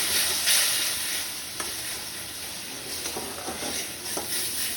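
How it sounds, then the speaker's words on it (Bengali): Spice paste frying in a pan as a little water is added, a broad hissing sizzle that flares loudly near the start and then settles into steady crackling with stirring taps. "মশলাতে আমি সামান্য একটু জল দেবো।"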